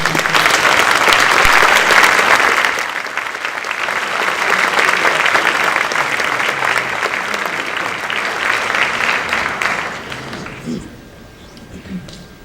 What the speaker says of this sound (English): So let's have a round of applause for her achievement.